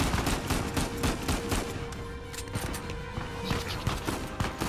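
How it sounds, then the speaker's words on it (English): Rapid gunfire from a third-person shooter video game, Uncharted 4, with repeated bursts and machine-gun volleys sounding dense and continuous throughout, some sharp shots standing out near the front of the mix. "Stop shooting me!"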